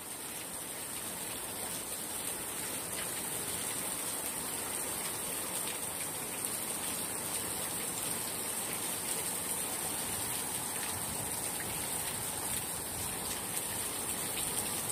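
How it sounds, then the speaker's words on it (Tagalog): Heavy rain pours down steadily in a dense, continuous hiss with gusts of wind, loud and unbroken throughout with no pauses. "Lakas ang ulan, no?"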